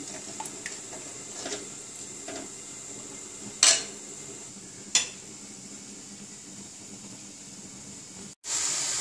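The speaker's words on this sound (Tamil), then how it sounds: "இது நல்லா கொதிக்கணும்." Dal water boiling in a cooking pot gives a steady faint hiss, broken by a few sharp metallic clinks of utensils against the pot, with no talk.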